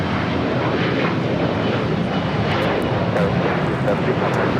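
A fixed-wing airplane takes off at LAX airport, its engine roar loud and constant with a broad rumbling wash that holds steady throughout, with no pause or fade.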